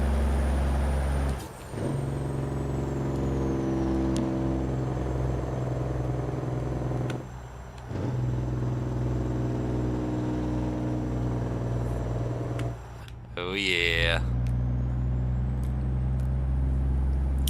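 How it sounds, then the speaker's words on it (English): A Detroit-engined Kenworth truck in American Truck Simulator with a deep, loud Jake brake rattling in long bursts, separated by brief shifts and a rising whine near the end; a voice briefly exclaims once. "I want y'all to hear the Jake brake on this thing."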